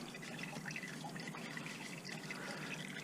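Engine oil draining out of a Subaru Legacy into a drain pan, a steady close trickle of liquid running without a break.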